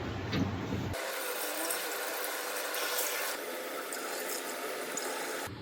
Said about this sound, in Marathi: आता मी हा माठ पाण्याने पूर्ण भरून घेतलाय